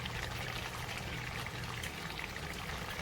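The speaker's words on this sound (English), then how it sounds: "I add a tablespoon of lime juice" Lime juice poured into a pot of Haitian-style oxtail, a steady soft trickling splash running continuously and faintly throughout.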